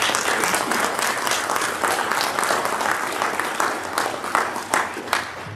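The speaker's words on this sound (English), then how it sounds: "give all of our veterans and their families a nice round of applause" Sustained audience applause for veterans and their families at a school Veterans Day celebration, a dense, steady wash of many hands clapping that carries on for the whole stretch with a few sharper claps near the end.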